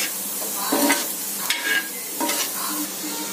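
Onion adai sizzles in a pan just after being flipped, a close, soft crackling fry with brief louder bursts of stirring or scraping over a few seconds, with no voices.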